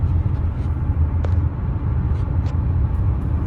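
Steady road and engine rumble from a 1989 Acura Legend coupe cruising at about 65 mph, heard from inside as a constant low roar with a few faint brief ticks.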